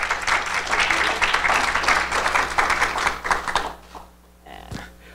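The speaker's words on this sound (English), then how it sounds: "let's everyone give him a round of applause" Audience at a university book talk applauds for the guest speaker, a full burst of clapping that carries loudly for about three and a half seconds, then thins and fades to a few scattered claps.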